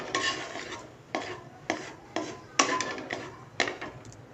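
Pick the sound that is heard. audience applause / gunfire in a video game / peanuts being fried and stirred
peanuts being fried and stirred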